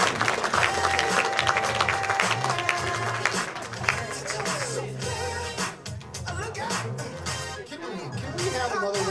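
An audience at a chamber of commerce awards ceremony applauds award winner Molly Gebel, with steady clapping and crowd noise mixed under loud background music and some voices.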